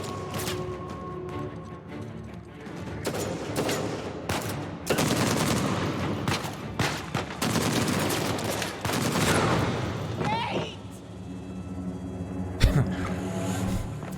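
Rapid gunfire from a big gun in a video game, dense bursts of shots that swell and fade across the stretch, with a loud sharp crack near the end and little talk.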